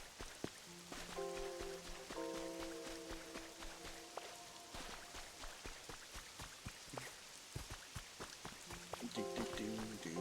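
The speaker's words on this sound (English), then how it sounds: "It is raining." Rain falls steadily in the Pokopia video game, a soft, even patter of drops on surfaces with scattered sharper ticks, while light game-music tones chime over it now and then; no one speaks.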